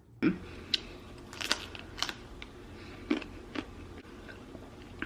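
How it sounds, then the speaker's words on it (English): A woman eating during a mukbang, chewing with her mouth open: soft wet chewing and biting clicks come at an irregular pace, close and fairly quiet over low room noise, with no talking. "she chews with her mouth open and then talks with food in her mouth"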